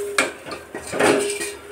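Boiled sangri is stirred with spices in ghee in a pan, with repeated close scraping and clinking of a spoon against the metal in an uneven rhythm.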